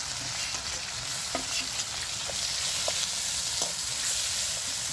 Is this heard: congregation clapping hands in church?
no